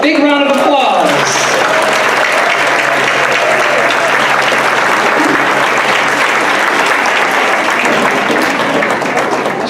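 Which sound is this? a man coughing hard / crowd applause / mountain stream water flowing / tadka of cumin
crowd applause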